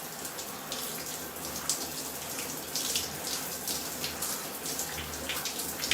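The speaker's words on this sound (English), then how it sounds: "All right, so I'm rinsing it out now." Running water rinses out natural hair during a wash-and-go routine, a steady hissing stream with soft splashing throughout and no talk.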